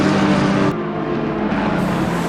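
GT3 race cars roar at Kyalami in Assetto Corsa Competizione, a loud continuous engine drone with a slight shift in pitch partway through as cars jostle for position.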